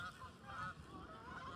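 Ducks honking and quacking nearby in a short, faint burst of nasal calls, several overlapping, with a low background murmur.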